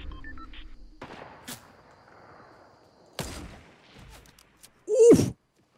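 Bursts of P90 gunfire in Fortnite: Battle Royale, a few sharp shots scattered over a few seconds, ending in one louder close blast, with quiet game ambience between.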